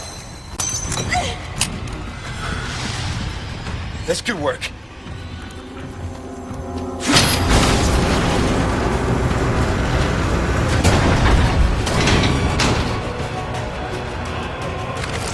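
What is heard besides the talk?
smashing mechanism to raise cannon, Resident Evil 4 video game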